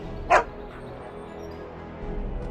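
A dog in the game Dragon Age: Origins gives one short, sharp bark-like yelp near the start, followed by quieter whimpering and a steady low game ambience.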